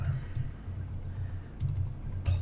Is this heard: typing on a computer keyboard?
yes